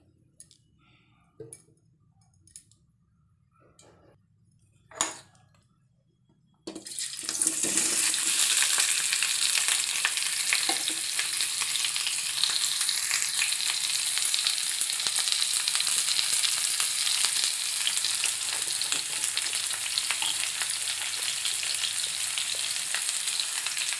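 Potatoes hit hot oil in a kadai and set off a loud, steady sizzle that runs on unbroken, after a few light clinks and taps in near silence.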